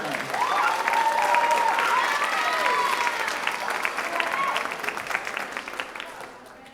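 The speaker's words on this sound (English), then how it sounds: "let's give them a round of applause for getting out of their comfort zone." Audience at a middle school band concert applauding, a sustained burst of clapping from a sizable crowd in a hall, peaking early and slowly thinning out with a few cheers mixed in.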